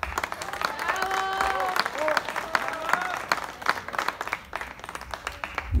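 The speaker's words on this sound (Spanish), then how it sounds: "por favor, un aplauso" Audience applause at a live show, sustained crowd clapping mixed with cheers and whistles throughout, tapering slightly toward the end.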